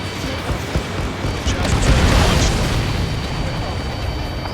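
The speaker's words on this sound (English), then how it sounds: "Missile away." A missile launch from silos in the video game Ace Combat 7, heard as a broad rumbling whoosh that swells in the middle and stays loud behind a continuous roar of engine noise.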